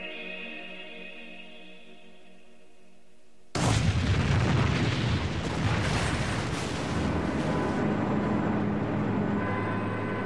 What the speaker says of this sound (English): a huge slab of salt and make it ready for blasting. Charges are laid.